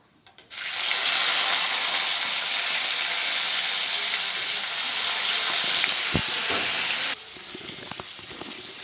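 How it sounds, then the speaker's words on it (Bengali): Rohu fish pieces rubbed with salt and turmeric are dropped into hot oil, which bursts into a loud, close sizzle that holds steady for several seconds and then settles to a quieter frying crackle. "এবার এর মধ্যে দিয়ে দেবো নুন হলুদ মেখে রাখা রুই মাছ"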